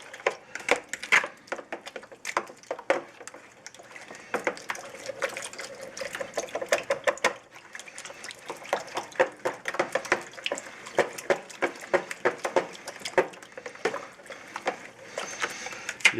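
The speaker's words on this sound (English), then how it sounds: "stir that up and get the yeast dissolved" Yeast being stirred into water in a bowl to dissolve it, heard as steady, close clicking and sloshing strokes in a quick, irregular rhythm for about sixteen seconds with no talking.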